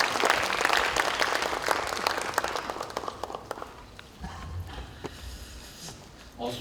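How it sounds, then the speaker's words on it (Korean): Applause from the audience at a Democratic Party lawmakers' workshop at the National Assembly as the floor leader is welcomed, a dense broadband clatter that thins out over several seconds into scattered claps. "큰 박수로 맞아주시기 바랍니다."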